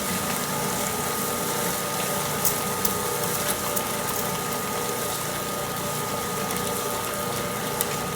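An electric popcorn machine motor runs steadily, a continuous mechanical whir and hum at even loudness throughout with a few faint clicks, no talking.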